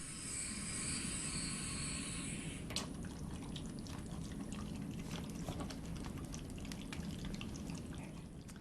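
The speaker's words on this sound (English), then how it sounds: "verify that water is bubbling in the humidifier" Water bubbling in an oxygen flow humidifier: a faint, continuous fizzing and gurgling close by, steady for the whole stretch, with a brief clunk partway through and no talking.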